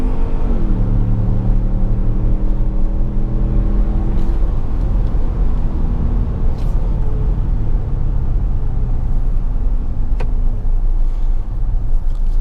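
A 2017 Ford Explorer Sport, a 365 hp twin-turbo SUV with its transmission in sport mode, accelerates hard, heard from the cabin. The engine drones loudly, rising in pitch with gear shifts over constant road rumble.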